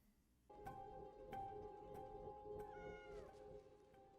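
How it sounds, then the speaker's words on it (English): A pet cat meows in a TV drama scene, a soft drawn-out cry over quiet room sounds and faint clicks, fairly low in level. "Oh wow, you've got a cat."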